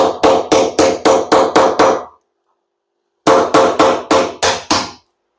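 A punch tool is hammered to seat a washing machine drum bearing: two sharp bursts of about six and seven metallic blows each, evenly spaced and close, separated by a short silence.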